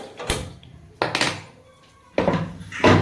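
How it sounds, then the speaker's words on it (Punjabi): An iron karahi wok is set on a stove to heat for making desi ghee from cream, giving three separate heavy metallic clanks and thunks, each fading quickly. "ਪਹਿਲਾਂ ਆਪਾਂ ਕੜਾਹੀ ਰੱਖਦੇ ਆ ਉੱਪਰ"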